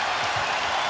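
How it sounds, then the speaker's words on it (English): Steady crowd noise fills an NBA Finals basketball arena during a 2010 Celtics vs. Lakers game, a broad roar with scattered cheering and clapping, continuous and fairly loud for under a second. "Crowd trying to wake themselves up."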